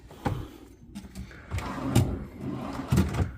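Several short wooden knocks and slides as hotel room drawers are pulled open and pushed shut, close by in a quiet room at Knott's Hotel, Buena Park, California, with faint rustling between.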